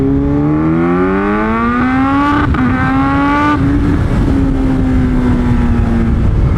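A motorcycle accelerating while being ridden, its engine note climbing steadily in pitch through the gears, loud and continuous with wind noise.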